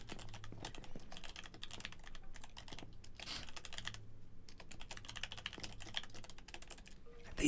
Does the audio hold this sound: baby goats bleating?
no